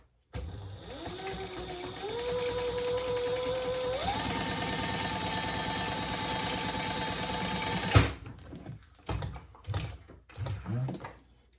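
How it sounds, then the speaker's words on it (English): A sewing machine top stitching a wallet runs fast and steadily for several seconds, with a whirring motor and rapid needle clatter that speeds up in steps. It then stops abruptly, followed by a few quieter handling clicks and rustles. "Now we're going to top stitch, and I'm going to use the pink."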